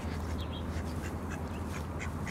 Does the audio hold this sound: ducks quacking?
yes